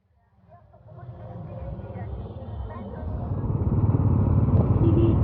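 Royal Enfield Bullet motorcycles starting up and pulling out of a parking area near Kakolat waterfall, a low thumping engine rumble that swells from near silence and grows steadily louder and closer.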